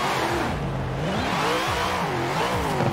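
A VW Beetle engine revving steadily in Forza Horizon 4, a loud continuous drone whose pitch rises and falls over about three seconds, with no talk over it.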